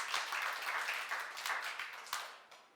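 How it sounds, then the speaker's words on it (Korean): Church congregation clapping in a brief burst of applause, a dense patter of hand claps that holds steady then tapers off toward the end, fairly quiet and distant. "박수 한번 하세요."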